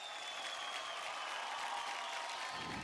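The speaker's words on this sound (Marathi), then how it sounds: "जोरदार टाळ्या" Steady, dense applause from a studio audience greets a dancer on a Marathi television dance competition show, a continuous wash of clapping that holds at an even, loud level for the whole span before easing slightly at the end.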